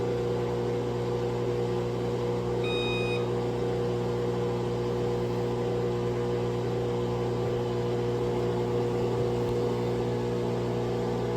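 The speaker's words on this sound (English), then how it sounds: "I'm going to put it on drain and spin and see if we get that F3E1 code" A Whirlpool washer with an F3E1 pressure-switch fault hums steadily through its drain and spin cycle, a constant mechanical drone with motor tones and a brief high beep early on, close and unbroken.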